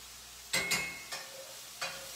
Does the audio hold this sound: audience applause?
no